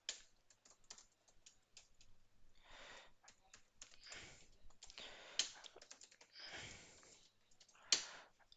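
Light, uneven typing on a computer keyboard while writing C++ code in a text editor, scattered soft key clicks with short pauses, occasional sharper key hits and a faint sniff in a quiet room.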